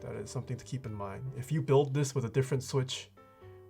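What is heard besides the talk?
No everyday noise stands out behind the speech.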